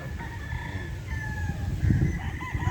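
A Boston Black gamefowl rooster crows at a game farm, one drawn-out call standing clearly over a busy yard of other fowl and low rustling background noise.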